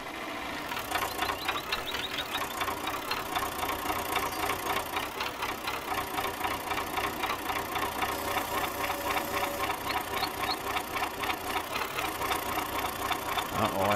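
A tractor engine idles in a farm simulator game, a steady mid-pitched rumble with a fast, even knocking pulse that runs unbroken and fairly loud throughout.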